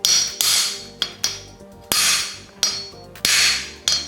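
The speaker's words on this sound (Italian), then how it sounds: "Quindi noi andiamo a colpire col martello sopra così." Hammer striking a crown race down onto a mountain bike fork steerer, about eight sharp metallic blows at uneven intervals, each ringing briefly before fading, close and loud with no talk.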